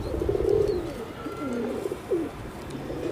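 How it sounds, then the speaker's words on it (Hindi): A pigeon coos softly at close range, a few low throaty calls with quiet background noise. "बहुत ही ज़्यादा शानदार लगा मुझे तो ये कबूतर"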